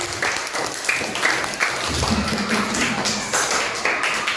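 A class of children claps in a classroom, a dense, uneven patter of small hands with some thumps and light taps, lasting several seconds.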